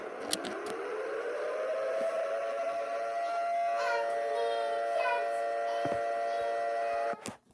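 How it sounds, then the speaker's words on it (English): A loud emergency alert siren from an Antarctica alarm meme sweeps upward, then holds a steady, piercing wail for several seconds before cutting off abruptly. "Reason 2, because of the alarm that sounds like this."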